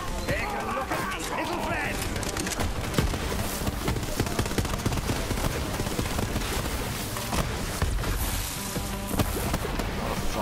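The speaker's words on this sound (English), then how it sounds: "Explosions." Dense, continuous barrage of explosions and rapid gunfire from explosive corrosion weapons in Borderlands 3, loud and crackling throughout, with a voice talking over it.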